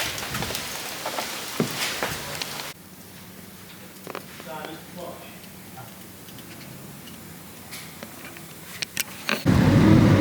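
An ex Royal Mail van drives for the first time after a clutch slave cylinder repair. A low engine rumble and road noise run steadily beneath people talking inside the cab.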